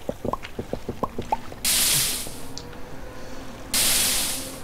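In the voxel game Minetest, water meets lava, giving two bursts of loud hissing steam separated by a pause, with scattered dripping and popping liquid sounds before them.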